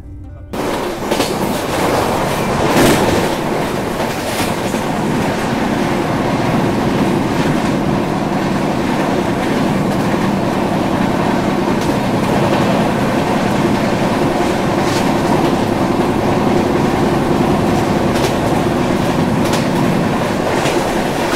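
Indore Howrah Shipra Express rolling steadily along the rails through Uttar Pradesh, a continuous loud rumble with rhythmic clickety-clack of wheels over joints, heard from inside the coach for the whole stretch.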